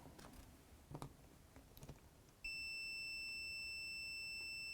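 A multimeter set to continuity, wired into a plug's neutral line during repair work on a BBC Micro, sounds a steady high-pitched beep that starts halfway through and holds unbroken, following a few faint clicks in a quiet room.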